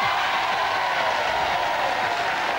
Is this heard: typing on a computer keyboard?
no